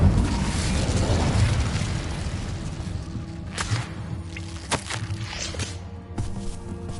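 An Incendio fire spell blast from Hogwarts Legacy, a dense roaring rumble that fades into scattered thuds and crackles, with faint footsteps and sparse later bursts.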